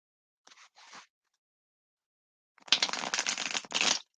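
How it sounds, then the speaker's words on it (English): Tarot cards being shuffled by hand: two short riffles, a pause, then a longer, louder crisp shuffling burst, close and isolated in a quiet room. "We're going to shuffle the cards how I normally do them and see what flies out."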